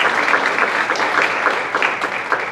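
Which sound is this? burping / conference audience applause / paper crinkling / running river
conference audience applause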